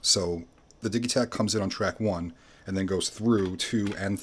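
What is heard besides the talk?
None of the usual background noises is heard.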